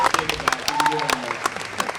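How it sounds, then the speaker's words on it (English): Scattered hand claps from an audience at the Patriots Alumni Stars and Stripers fishing tournament event, a brief burst of applause mixed with someone speaking over it. "thank you for that recognition and applause"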